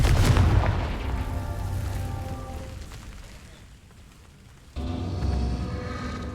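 A Confringo fire spell blast in the Hogwarts Legacy video game: a loud booming burst at the start that rumbles and fades, then a second blast erupts near the end, with no talking.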